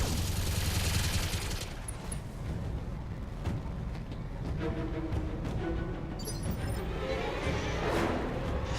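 Machine guns in the Battletech video game fire in a loud, sustained rattling fusillade, dense rapid shots blending with crashing impacts and rumble, continuing across the whole stretch without speech.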